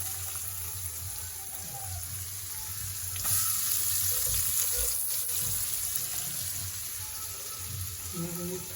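Chopped onions dropped into hot oil already tempered with cumin seeds, asafoetida and curry leaves, giving a steady close sizzle and crackle with a few louder spatters.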